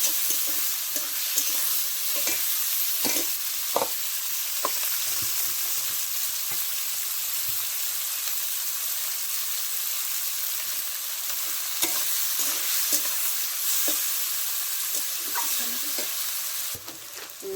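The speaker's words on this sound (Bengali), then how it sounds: "একটু ভালো করে ভেজে নিতে হবে।" Onions frying in a pan for a Bengali chicken curry, a continuous bright sizzle with intermittent scrapes and stirring knocks throughout, close and fairly loud, no talking.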